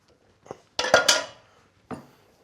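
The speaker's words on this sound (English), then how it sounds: "then you add your wet to it and literally mix it to a batter" A spoon knocks against a bowl while spiced cake batter is mixed, giving a few separate clinks and clanks: one light tap, a louder cluster, then a final knock, with quiet gaps between.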